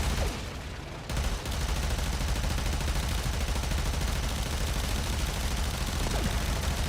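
Dense, continuous gunfire from the Imperative Vandal arc gun in the game Warframe, a loud, unbroken crackling barrage running for several seconds with only a short dip near the start.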